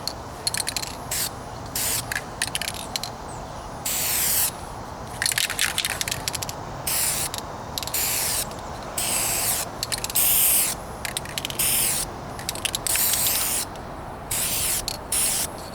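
Rattle can spraying light coats on a 1998 Toyota Corolla trunk outdoors in a breeze, heard as many short, loud, close hissing bursts in an uneven rhythm over faint wind.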